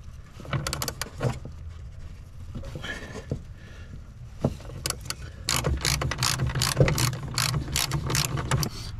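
A ratchet wrench loosens 12 mm nuts on the clutch pedal bracket of a second-generation Toyota 4Runner, giving several bursts of rapid clicking with pauses between them, up close and steady near the end.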